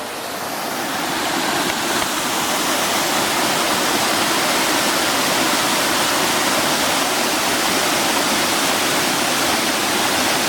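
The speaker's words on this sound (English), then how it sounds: "This is small, the smaller falls before you get to the big falls that you're gonna hear behind me" A small waterfall in a stream, just below a bigger falls, pours with a loud, steady broadband rush that holds constant throughout, close by and alone with no voices.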